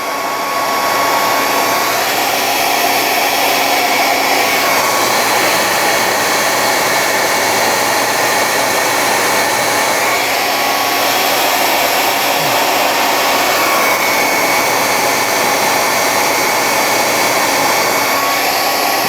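Heat gun blowing hot air over a resin model kit torso held in clamps, a loud continuous roaring whoosh that runs steadily from start to finish with no talk over it.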